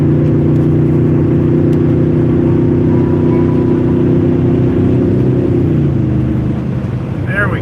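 A BMW car cruises on a snowy road with a steady, loud, droning engine and road rumble inside the cabin, the pitch holding before easing slightly near the end.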